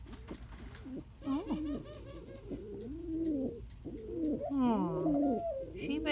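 A pet pigeon-type bird named Coo gives soft, repeated cooing calls and warbles at close range, while a person speaks briefly over the birdsong.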